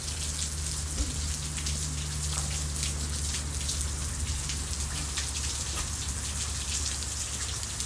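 Steady rain pours down on a surface, a dense continuous hiss with scattered drops tapping throughout, alone with no voices.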